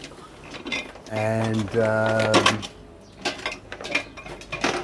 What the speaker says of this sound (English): this is like a little vacuum pump